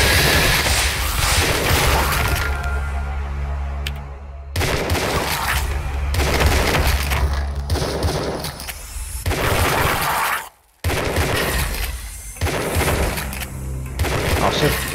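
Rifle gunfire in Tesla vs Lovecraft: a rapid, dense barrage of loud shots and booming blasts that runs almost without a break, cut off once by a brief silence.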